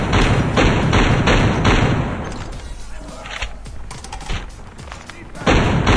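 An SVD Dragunov sniper rifle fires in the mobile shooter game Call of Duty Mobile. Rapid, heavy thudding shots come in quick bursts, fade into scattered quieter reports, then return loudly, mixed with other game noise and some talking.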